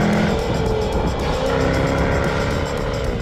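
A Jaguar F-Type convertible engine roars loudly and steadily close by, a continuous throaty drone with no talking over it.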